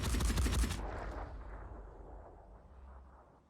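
Gunfire in the tactical video game Phoenix Point: a rapid burst of loud shots that ends abruptly, leaving a long rumbling echo that slowly fades.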